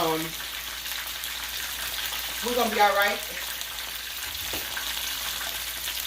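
Steady hiss of chicken frying in oil runs throughout, with a person speaking briefly partway through over the continuous sizzle.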